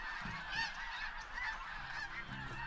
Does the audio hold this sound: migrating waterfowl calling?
yes